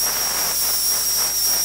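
Steam gun blowing onto fabric: a continuous loud, airy hiss with a thin steady whistle on top, unbroken for under two seconds.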